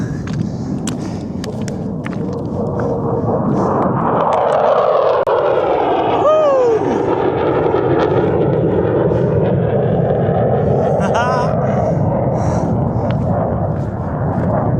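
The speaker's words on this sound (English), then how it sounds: "Planes are giving us a show now." Airplanes fly overhead above the rocky summit of Crag Hill in the Lake District, a loud, sustained engine roar that swells and shifts in pitch as the aircraft pass over the open fell for about fifteen seconds.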